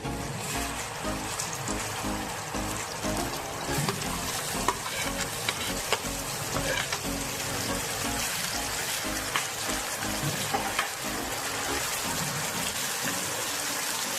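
Steady crackling sizzle of chillies, ginger and garlic frying in hot oil for red chilli chutney, with occasional stirring scrapes and small pops, continuous and close throughout.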